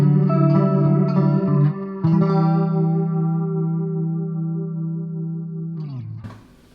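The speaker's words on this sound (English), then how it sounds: "if we throw some reverb onto that as well" A sustained electric guitar chord rings through a Line 6 Spider 15 Classic amp with reverb, re-struck once, then decaying with a spacious tail before a brief noisy cut-off.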